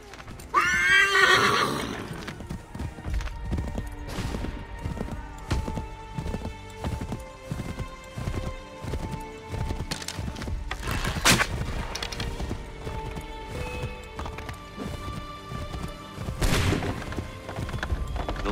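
A horse whinnies loudly near the start, then hooves clatter in a steady gallop under a dense, busy soundscape in Assassin's Creed III: The Tyranny of King Washington, with occasional sharp bangs.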